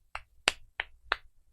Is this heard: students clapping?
yes